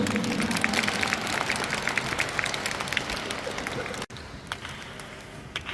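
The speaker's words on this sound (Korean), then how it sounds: "두 분에게 큰 박수 한번 보내주십시오" Dense audience applause at a dance festival event, loud and sustained for about four seconds, then dropping abruptly to a thinner patter of clapping with some crowd noise.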